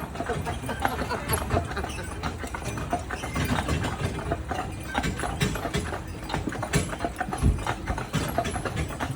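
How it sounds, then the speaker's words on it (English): Horses pulling a carriage through a downtown street on Prince Edward Island, Canada, hooves clip-clopping in a slow, steady rhythm close by, with the rattle and creak of the carriage mixed in. "The horses are going really slow, folks."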